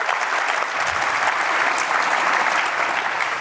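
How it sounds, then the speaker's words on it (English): A conference audience at KB4CON 2019 gives sustained applause, a dense, even wash of clapping from a large crowd that holds at a steady level throughout without speech. "How about a round of applause for Stu?"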